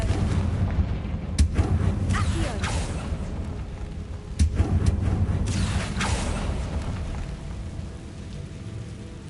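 Confringo blast spells in the video game Hogwarts Legacy, set over a constant rumbling background of rain and ambience; several sharp burst impacts stand out, with the loudest around the middle of the clip.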